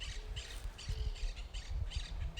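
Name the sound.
birds calling outdoors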